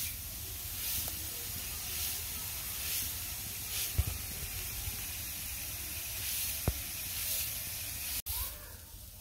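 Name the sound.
potato fry (aloo bhaji) sizzling in a pan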